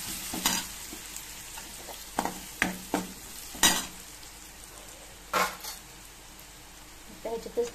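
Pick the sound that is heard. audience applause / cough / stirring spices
stirring spices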